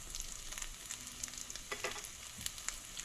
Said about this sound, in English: Put some butter in the pan